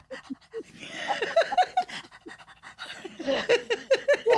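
A dog pants close by in quick, rhythmic bursts of breathy huffs, with a few high whimpering squeaks mixed in and a short lull midway.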